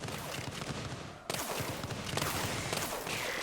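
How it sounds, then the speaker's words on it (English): A blast cannon tower in the strategy game Axon TD: Uprising fires a dense, steady barrage of rapid explosive pops against swarming enemies, with a sharp jump in intensity partway through and continuous game noise underneath. "Let's put down a blast cannon here, just to take out some of those swarms that we were seeing earlier."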